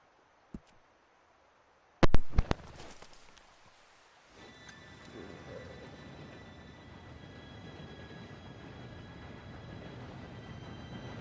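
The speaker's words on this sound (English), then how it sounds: "Train should be here any minute now." A train approaches in the Red Dead Redemption 2 video game: a sharp burst of clatter and knocks follows near silence, then a steady rolling rumble builds and holds to the end.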